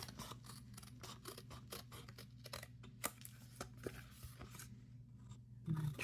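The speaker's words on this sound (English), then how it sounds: "Trim this side." Scissors trim paper for a craft bee journal, giving a quick series of close, crisp snips and cutting rustles against a low steady hum, with no speech.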